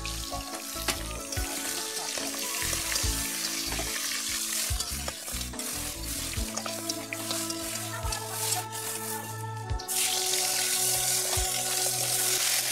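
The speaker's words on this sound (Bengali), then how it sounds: "আর এই দিকে আমি মাছগুলো ভেজে একে একে তুলে নিচ্ছি।" Pieces of rohu fish sizzle steadily in hot oil on a clay stove, alongside okra and onion frying in another pan, with a continuous close crackle, occasional utensil knocks, and a brief watery sound mixed in.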